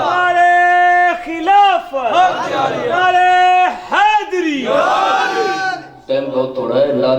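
A crowd at a religious gathering shouts slogans back in unison, several loud, overlapping waves of massed voices with brief pauses between calls, filling the space close by.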